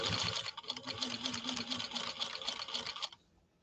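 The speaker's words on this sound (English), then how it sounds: "Now we're going to try to lay down a stitch line next to this with a much shorter stitch." A 1949 Canadian Singer 15-91 sewing machine stitching leather, running in a steady, fast mechanical whir with a dense rattle of needle strokes, close and loud, stopping abruptly near the end.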